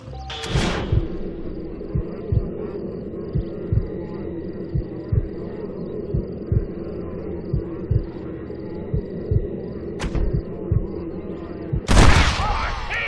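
Gunfire in Red Dead Redemption: evenly spaced gunshots, roughly one every half-second to second, pop out over a low rumbling background for over ten seconds, with a couple of louder bursts near the start and end.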